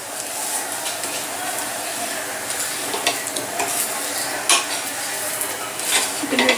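Sindhi koki flatbread frying in a pan over high heat, a continuous loud sizzle with occasional scraping and clinks of a utensil against the pan.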